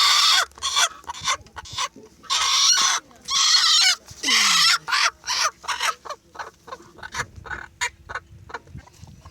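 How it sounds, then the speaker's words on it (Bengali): Chickens in an open field call loudly and repeatedly up close: long harsh squawks at first, then a rapid run of shorter clucking bursts. "মুরগি"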